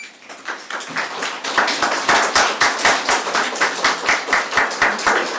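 A crowd at a public meeting claps steadily, building from scattered claps into sustained, rhythmic applause with loud sharp hand claps close by.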